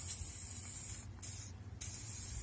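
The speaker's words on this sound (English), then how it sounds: "take some WD-40 or something else and spray" WD-40 sprayed from an aerosol can into the door hinges of a 2003 Dodge Ram Cummins truck, a continuous hiss broken by two brief pauses, close and fairly quiet.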